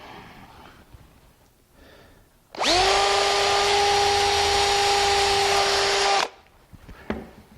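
A power drill with a 5/64 bit drills wood, whirring up and running steadily for several seconds at high speed, close and loud, then abruptly stops.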